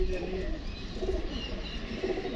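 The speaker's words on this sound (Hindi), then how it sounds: "ये जी कबूतर है" Pigeons of a black-tipped breed kept by a fancier coo softly and repeatedly in a loft, with low rumbling calls close by and someone talking at times.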